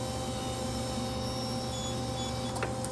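Wire feed motor of a gasless flux core welder whirs steadily up close as it pushes wire through, a constant mechanical hum with a faint click near the end.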